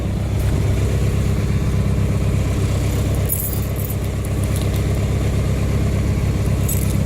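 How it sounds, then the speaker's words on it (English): A small twin-cylinder Briggs & Stratton engine on a Cub Cadet lawn tractor runs steadily with a low, throbbing rumble, constant and fairly close, with no talking. "Gotta love the sound of that twin engine Briggs."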